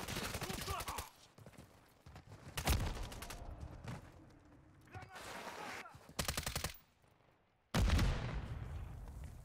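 Call of Duty Modern Warfare III gunfire: sharp bursts of automatic fire and single loud shots in irregular clusters, separated by brief quieter gaps, with faint game ambience between volleys.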